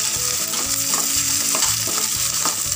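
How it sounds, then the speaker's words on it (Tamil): Tomatoes and green chillies sautéing in a pan for a potato kulambu, a loud continuous sizzle with rhythmic stirring scrapes, close up and without talk. "தக்காளி நல்லா மசிகிற வரைக்கும் வதக்கி விட்டுக்கோங்க."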